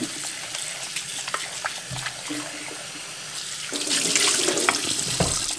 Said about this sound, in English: But I think the water is running pretty clear,